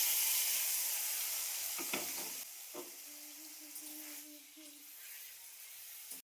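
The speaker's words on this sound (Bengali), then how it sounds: "তো তেলটা ভালোভাবে গরম হয়ে গেলে এবার আমি চিকেনটাকে পুরোটাই ঢেলে দেব।" Chicken goes into hot oil in a kadai with a loud, bright sizzle that gradually softens, broken by a few stirring knocks, close up and unaccompanied by voices.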